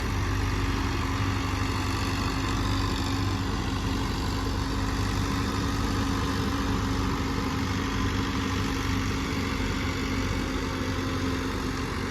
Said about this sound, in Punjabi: ਚੁੰਝੂ ਮਰੀ ਦਾ ਟਰੈਕਟਰ